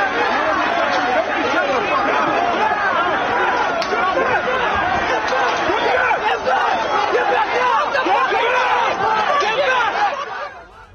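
Dense crowd of pro-Palestinian protesters clashing with police at a building gate, a continuous loud roar of chatter and shouting that holds steady for the whole stretch and fades only at the very end.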